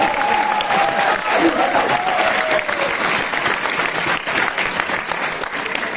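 Audience at a Hindi kavi sammelan poetry recital breaks into sustained, dense applause, with steady clapping filling the hall from start to finish and a faint voice briefly audible beneath it.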